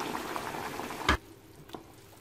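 Water pours into a pot of potato stew as a steady, moderately loud rush that stops abruptly partway through, leaving a quieter background with one small clink.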